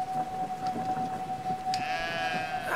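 Sheep bleating in the video game Brothers: A Tale of Two Sons, a fairly loud sustained bleat over a steady tone and faint background game ambience, with a second wavering bleat joining toward the end.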